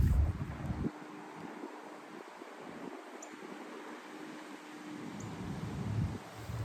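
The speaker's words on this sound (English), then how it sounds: "The wind's blowing out here too." Wind blows outdoors: low, gusty buffeting rumbles against the microphone at the start and end, with a steady soft airy hiss in between and no voices.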